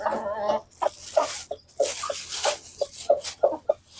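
Chickens clucking at an evening feeding, a string of short, close clucks repeating every half second or so over a dry, noisy backdrop, with no voices heard.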